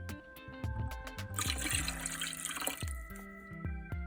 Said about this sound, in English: A can of water.